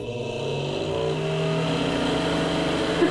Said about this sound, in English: The only good thing about that fan is that no one will hear what you're actually doing in here.